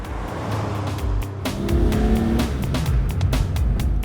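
A Chrysler VF Valiant drives past with a loud, throaty engine roar that builds as it accelerates, steady and close with faint tire noise.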